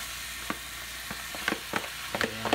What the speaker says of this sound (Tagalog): Medyo igisa muna natin ng konti yung munggo para kumapit yung kanyang flavor